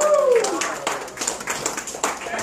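Scattered clapping from a small comedy club audience at Manny's Place, a few uneven claps and taps close by, mixed with talk from the stage.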